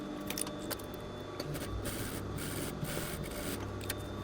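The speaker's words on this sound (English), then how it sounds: "Now we can bring it over to the machine and sew it with 1 cm, 3/8 of an inch seam allowance" A sewing machine stitches a seam with a steady, fairly quiet mechanical whir and rapid needle ticking that pauses briefly once or twice.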